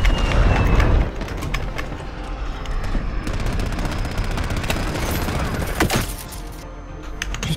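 Rapid gunfire bursts from Modern Warfare multiplayer, a heavy boom opening then sustained crackling automatic fire with sharp repeated shots, fairly loud and continuous, with no speech over it.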